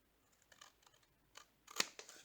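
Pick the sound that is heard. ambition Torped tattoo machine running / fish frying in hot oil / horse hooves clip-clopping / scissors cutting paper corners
scissors cutting paper corners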